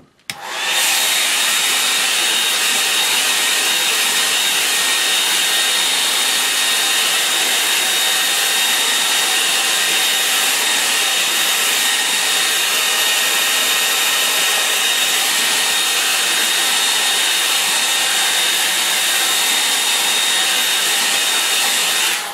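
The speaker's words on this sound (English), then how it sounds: "I'm going to use the hairdryer on that" A hair dryer drying a watercolour painting runs continuously at close range, a loud steady whooshing roar with a high whine that holds unchanged throughout.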